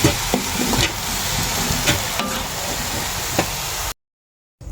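Fish fries in a pan with a steady, close hiss of sizzling oil and occasional scraping stirs, before the sound cuts to silence near the end.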